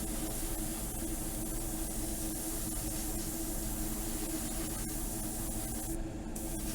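Airbrush spraying Auto-Air candy paint onto a Gunpla model, a steady, continuous close hiss of compressed air and paint that runs unbroken throughout with no speech.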